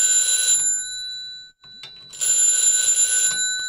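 An old telephone's mechanical bell, driven by high-voltage pulses in a plain old telephone intercom, rings loudly in two long metallic bursts, separated by a short pause with faint clicks.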